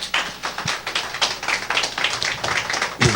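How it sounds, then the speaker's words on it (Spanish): Church congregation applauding, a dense, steady run of many hands clapping close by, continuous for a few seconds without a break. "Dele un aplauso al Señor, por favor"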